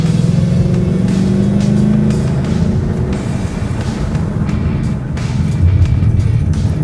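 A Ford Mustang with a manual transmission is driven with the engine humming steadily inside the cabin, rising and easing as the clutch is worked, with no talk.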